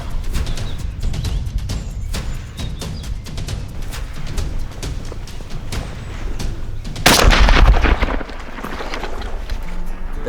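A single sharp gunshot cracks out about two-thirds of the way through, fired at a turkey during a hunt in Wyoming. Quiet outdoor rustling and footsteps come before it.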